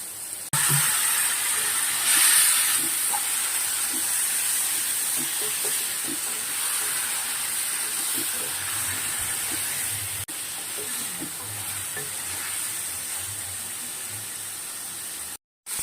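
Spices with tomato and chilli powder sizzling in a pan after a splash of water, cooking a Bengali aar fish jhal, a steady steamy hiss with faint pops and scrapes that runs on for a long stretch.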